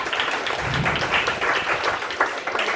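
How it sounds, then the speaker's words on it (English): Audience applause at a youth steelpan music program: brisk, continuous clapping from a room of people, fairly close and even throughout the short clip. "we have to give Deontay a big round of applause"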